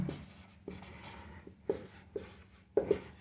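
Pen strokes scratch across paper as notes are written out in a physics class, a series of short scribbling bursts with pauses between them, close and quiet.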